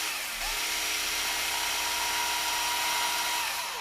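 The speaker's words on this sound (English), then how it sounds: "I need to get my drill through here" A power drill bores through an accessory part for a scale SCX10 Rubicon RC crawler, a steady high whine with a buzzing tone that runs loud and continuous for nearly four seconds.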